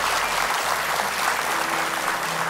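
An audience claps steadily and densely for a few seconds in a studio show setting, with the applause loud and continuous throughout.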